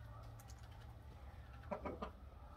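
A black hen crossed with a Light Brahma, a bearded young bird, gives a short burst of soft clucks near the end of a quiet farmyard background, faint and close.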